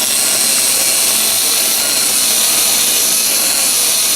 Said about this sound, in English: Switch back to my more aggressive burr.